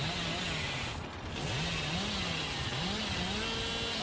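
In the video game Dead by Daylight, the killer's chainsaw drones loudly and steadily for several seconds, its pitch wavering and dipping once near the start.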